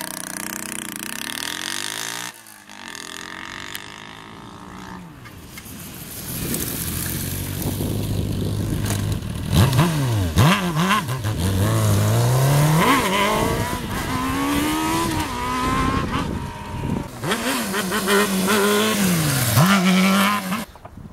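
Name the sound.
Honda Hornet motorcycle revving while doing wheelies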